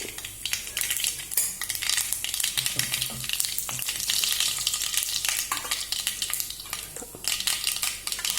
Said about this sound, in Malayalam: കടുക് നല്ല പൊട്ടി വരുമ്പോൾ